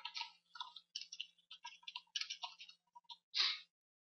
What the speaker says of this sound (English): I remove my name and type a different name.